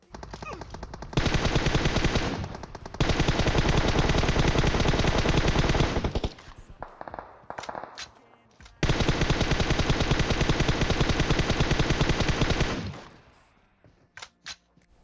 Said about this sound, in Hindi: बीच सड़क में, बीच रोड में गाड़ी रोक के यार गोली चला रहे हैं